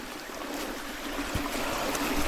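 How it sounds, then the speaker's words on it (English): Waterfall in a wooded spot, glimpsed through the trees; a steady, fairly distant rushing of falling water fills the background evenly throughout, with no voices. "A nice waterfall up there, just peeking out through the trees."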